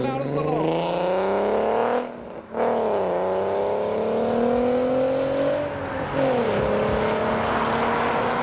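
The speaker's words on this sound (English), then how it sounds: "There's the Fiesta ST with an old school Ford Escort XR3i convertible." Ford Fiesta ST and an older Ford Escort XR3i convertible drive past close by after leaving a car show, a steady engine drone with small rises in pitch as they go by, with no talk over it.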